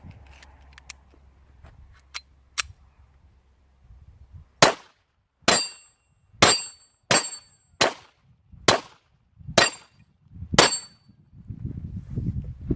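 Eight loud, sharp gunshots from a surplus Bulgarian Makarov 9x18mm pistol at a shooting range, fired at a steady, slightly uneven pace after a few faint handling clicks, with no talk.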